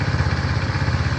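A GY6 scooter engine with an exhaust leak idles close and steady, a loud low chugging throb with a raspy, puffing edge and no voices.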